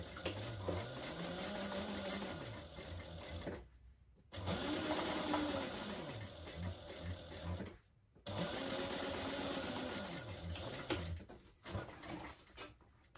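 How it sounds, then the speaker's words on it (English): A sewing machine top stitches down the folded edge of card slots to form a slip pocket on a small purse, running in three long steady whirring passes with brief stops between, close and alone. "create your pocket, your slip pocket, by top stitching down the folded edge here of your card slots"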